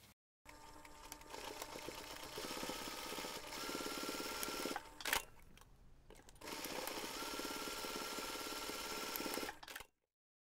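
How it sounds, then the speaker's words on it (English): Close by, a sewing machine runs in long continuous whirring stretches as it sews both seams of a fabric plant pot cover, stopping briefly midway and then starting again before falling silent at the end. "we're going to take this to the machine and we're going to sew both seams"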